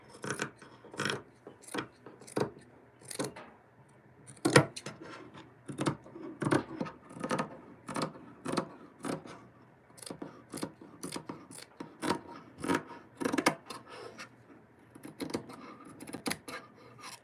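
Scissors snip through knit fabric while sewing puffy sleeves and a neckband onto a knit shirt, sharp crisp cuts repeating in an uneven rhythm of short bursts, close and fairly quiet, with no talking.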